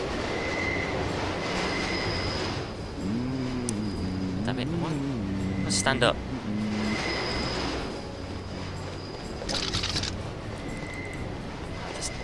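A train in the video game Deus Ex: Revision rumbles steadily with squealing wheels and mechanical whines, while characters speak over it.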